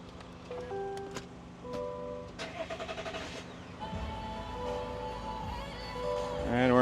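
A car engine turns over and starts after an engine detail by a mobile detailer, cranking briefly near the end and settling into a steady idle, with background music and some talk heard earlier.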